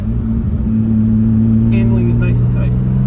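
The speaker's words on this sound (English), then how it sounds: "Now, a little acceleration. Transmission shifts through the gears, no problem." A Mazda Miata's engine hums steadily from inside the car under acceleration, with a low, even drone and slight dips as the transmission moves through the gears, close and fairly loud beneath a voice.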